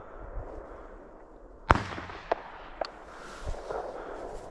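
A single sharp shotgun blast rings out while pheasant hunting outdoors, followed by a few fainter pops and some rustling in the field.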